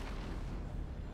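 A shotgun fires in Destiny 2 with a dense, booming blast that fills the whole short moment at moderate loudness.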